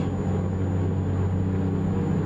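A Peterbilt 359 truck with a supercharged Cummins NHS-6 engine drones steadily at highway speed around 1800 to 2000 rpm, a loud, continuous low rumble with a constant hum and no talking.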